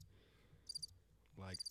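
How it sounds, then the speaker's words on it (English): Cricket chirping sound effect, two short bursts of bright chirps over faint background, the second arriving with a louder, tonal beep-like sound. "Why are there crickets? I don't know. I pressed the wrong button."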